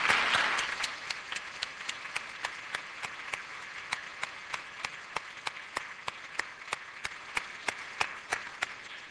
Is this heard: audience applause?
yes